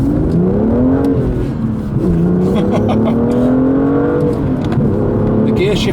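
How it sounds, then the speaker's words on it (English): A 2017 BMW M2 coupe accelerates hard with wheel spin, its engine note rising through revs, dipping at a gear change and climbing again, loud from inside the cabin with someone talking over it. "Bit of a wheel spin there, which I'm not used to."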